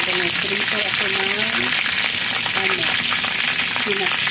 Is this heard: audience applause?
no